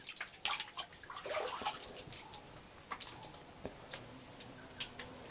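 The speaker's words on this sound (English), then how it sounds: "there's water streaming out of there, and then it flows down into the waterfall" Spring water trickles and splashes near a temple in Ahobilam, faint and close, with scattered drips and small splashes over a soft flowing wash.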